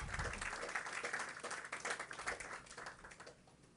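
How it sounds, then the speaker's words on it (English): Audience applause at the opening ceremony of the Sir Jack Hayward Bridge, a steady wash of many hands clapping at moderate distance, holding for a few seconds before thinning slightly toward the end. "And so I think we all deserve a round of applause."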